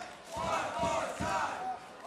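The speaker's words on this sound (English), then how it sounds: "Oh, crowd now chanting one more time" A wrestling crowd chants in unison, a loud rhythmic roar from a large audience repeating in pulses with no commentary over it.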